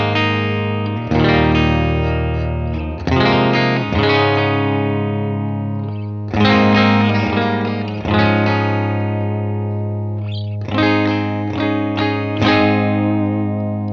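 Electric guitar on a Gretsch 6122 Junior's bridge pickup through a UA Dream 65 amp pedal, played in ringing chords and short phrases with slightly driven, reverberant tone, loud and alone.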